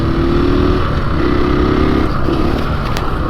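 A 2021 KTM 500 EXC-F Six Days dirt bike runs at high speed, a loud close engine note rising and falling across several surges through gears, with wind rush throughout.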